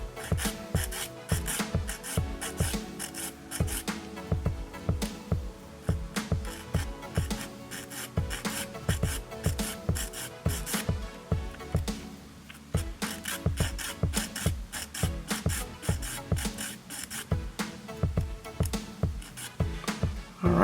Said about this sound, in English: So I'm going to file off that tab really quick